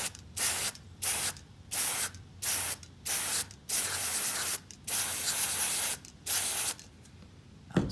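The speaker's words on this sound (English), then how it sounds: "I'm going to give this a couple sprays" Spray cleaner hisses from a can onto the wires of a 2005–2015 Toyota Tacoma mass air flow sensor in about nine close, loud, sharp bursts, each roughly half a second long and separated by brief pauses.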